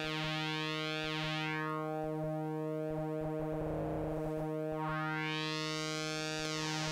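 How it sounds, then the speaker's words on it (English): A sustained Softpop SP II synthesizer tone with a shifting, sweeping timbre as an envelope modulates its pulse width, buzzing harmonics swelling and fading, alone and fairly quiet. "now that the envelope is modulating the pulse width"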